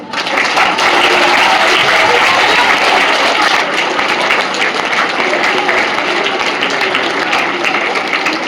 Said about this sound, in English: Applaud their hard work.